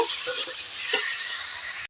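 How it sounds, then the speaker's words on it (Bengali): A spice paste of ginger, chilli, turmeric and cumin sizzles steadily in a hot pan for a pumpkin-greens dish, with a constant bright frying hiss and a few soft stirring scrapes. "আদা বাটা মেটে ঢেলে দেবো লঙ্কা হলুদ জিরে আদা এটা ভালো করে আমি কষিয়ে নেব"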